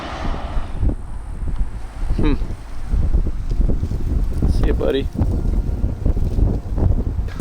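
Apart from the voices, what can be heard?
strong wind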